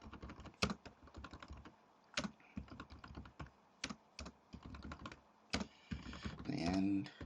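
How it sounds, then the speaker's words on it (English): A computer keyboard is typed on for a Microsoft Word text-formatting lesson, with sharp irregular clicks in quick bursts and short pauses, close and quiet. A soft voice-like sound comes in near the end. "I will create another set of text, and I will kind of just type anything I want"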